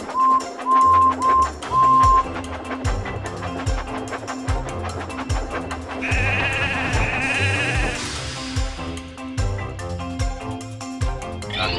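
Sheep bleating from a sheep enclosure in a Thomas & Friends game, over a bouncy music loop, with a few wavering bleats standing out near the start and the middle.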